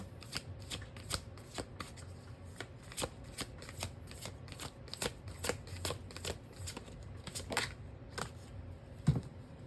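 Tarot cards shuffled by hand in a long run of crisp riffling flicks and soft slaps, close up and steady over nearly ten seconds, with no talking.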